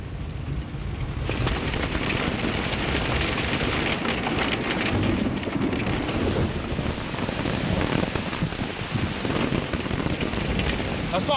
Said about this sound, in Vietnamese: Trời mưa đường trơn.